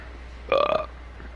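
A zombie in Resident Evil 3 lets out a single short, guttural burp, a brief croaking belch heard alone over quiet game ambience.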